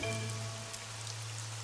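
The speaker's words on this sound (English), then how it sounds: "It's only the rain." Cartoon rain sound effect: a steady, soft hiss of falling rain with a low hum underneath, continuous and even, heard alone without voices.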